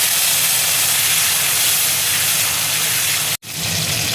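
Tomato hits hot oil in a pan for an egg and pointed gourd curry, setting off a loud, continuous hissing sizzle that breaks for a moment with a brief dropout, then carries on just as strong.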